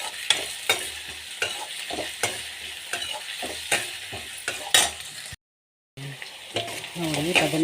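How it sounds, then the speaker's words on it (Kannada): Brinjal pieces fry in a pan while a spoon stirs and scrapes them in steady strokes under a continuous close sizzle, then a brief gap before the frying resumes. "ನೋಡಿ, ಬದನೆಕಾಯಿ ಚೆನ್ನಾಗಿ ಫ್ರೈ ಆಗಿದೆ."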